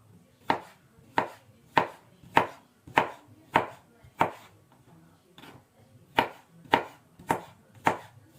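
Cucumber is chopped with a knife on a board in a steady series of about twelve crisp, close knocks, evenly spaced with one brief pause midway, and no talking.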